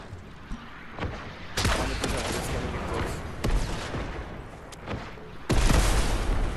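A quad launcher explosive weapon fires in a video game match: sharp blasts and booming bursts come in quick succession, with a big thump near the end and faint voices underneath.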